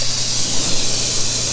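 An undercarriage washer sprays a steady, loud, hissing stream of water against the underside of a ceramic-coated car during a plain rinse, with no talk.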